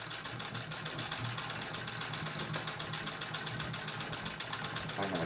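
A Singer 66-18 treadle sewing machine quilting through denim runs continuously, a fast steady mechanical chatter of needle strokes with a low rumbling drive underneath, close and loud throughout.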